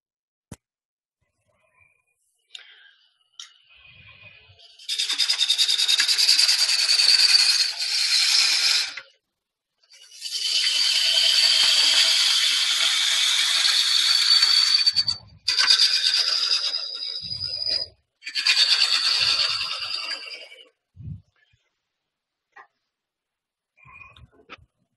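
A wood lathe cutting end grain: four loud bursts of harsh, whirring scraping, each several seconds long, separated by brief pauses, with faint clicks and knocks between cuts and no talking.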